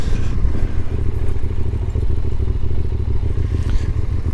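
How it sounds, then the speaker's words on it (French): A motorcycle engine runs steadily and loudly up close as it rides across the ocean floor in Charente-Maritime, France, with a rumbling low drone and some rattling clatter throughout. "je vais donc rouler avec la moto sur le fond de l'océan"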